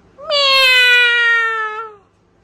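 A voice imitates a cat's meow, one long, loud, close rising-and-falling mew lasting about two seconds, alone with no other talk.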